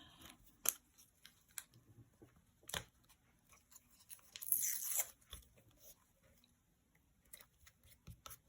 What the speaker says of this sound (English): And I'll clean it up with the scissors at the end.